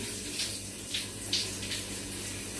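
Water from a shower runs steadily, a constant hiss and splash with faint bursts of spray, heard fairly close and without talk.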